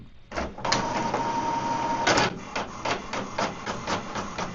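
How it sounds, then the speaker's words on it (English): An HP Envy 6120e inkjet printer runs a two-sided print job, its feed motor whirring steadily with a sustained electronic tone, then a burst of mechanical clunks and a run of rhythmic clicking and ratcheting as the page moves through. "So now it's printing on the first side, and right away it will put the paper back to print on the second side"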